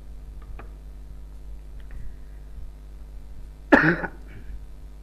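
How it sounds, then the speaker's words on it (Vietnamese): A man coughs once in a harsh, throaty burst with a bit of throat clearing, close and loud against a quiet room with a steady low hum. "Mấy hôm nay thầy bị ho nhiều quá các em ạ."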